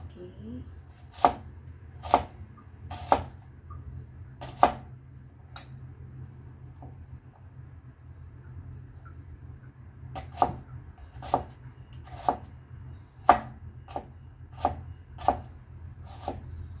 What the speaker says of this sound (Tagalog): Tsaka i-chop po natin ito.